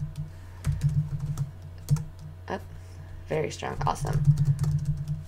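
Password being typed on a computer keyboard in a series of close key clicks in short bursts, with someone talking over part of it.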